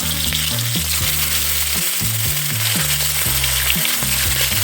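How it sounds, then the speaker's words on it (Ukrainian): Meat searing in portions in a kazan cauldron for pan-cooked shashlik, a loud steady close sizzle and crackle throughout, with a repeating low tonal pattern underneath and no talking. "Обсмажуємо дозовано."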